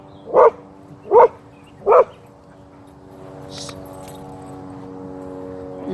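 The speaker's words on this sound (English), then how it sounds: "are you barking at kids for?" A dog on a walk through a park barks three times in quick, evenly spaced sharp barks close by, then falls quiet while a faint steady hum and a brief jingle carry on.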